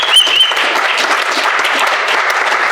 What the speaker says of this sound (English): Clap it up for Amber